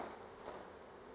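Honeybees buzzing from an opened hive frame during an inspection, a faint, continuous low drone of many bees close by, with no speech.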